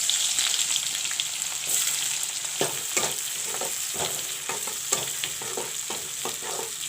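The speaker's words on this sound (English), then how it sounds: "Let the onions fry a bit." Sliced onions frying in oil for a curry, a continuous bright sizzle with occasional stirring scrapes and clinks close by, no voices.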